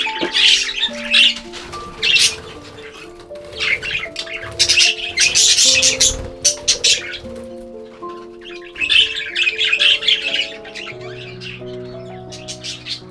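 Budgies in an aviary keep up a dense, lively chorus of squawks and chirps, with bursts of bright, overlapping calls coming close and loud throughout.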